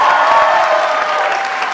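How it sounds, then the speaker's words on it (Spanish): An audience at a telenovela presentation event breaks into strong, continuous applause, a dense wash of clapping with faint crowd voices. "¡Fuerte aplauso!"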